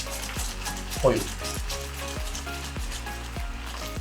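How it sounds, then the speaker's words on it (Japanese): Raspberry jam thickens in a pot with a steady close sizzle and bubbling, broken by regular soft knocks and scrapes of stirring. A voice speaks briefly. "これは、こうなんかジャムみたいに煮詰まってきてる時になる音なんですけど"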